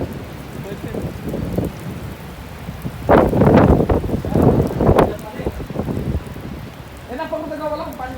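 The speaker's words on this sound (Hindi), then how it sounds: "बारिश हो रहा है" Rain falls steadily in a Qatar labour city, a dense continuous wash with louder gusty swells in the middle, and people's voices break in near the end.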